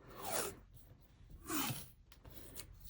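Washi tape laid along the top of a planner page, two soft scraping, peeling rubs about a second apart, close and quiet, with faint rustling between.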